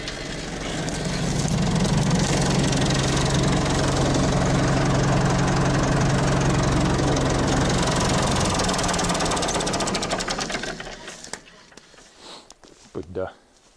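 A farm tractor engine idles loudly and steadily with a low knocking throb, then shuts off near the end, leaving a few faint clunks and quiet.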